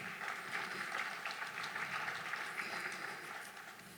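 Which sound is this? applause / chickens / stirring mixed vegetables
applause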